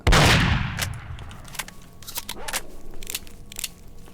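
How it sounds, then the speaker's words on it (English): Shotgun blasts in S.T.A.L.K.E.R. Shadow of Chernobyl with the OGSE mod, one loud booming shot at the start decaying into a noisy tail, followed by several sharper, quieter cracks and clicks spaced irregularly. "I want to try these shotguns out."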